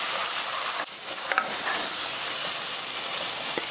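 Lamb and tomato curry sizzles in a pan as a spoon stirs through it, with a steady broadband fry hiss, a short dip near one second and a few soft scrapes, close and continuous with no talking.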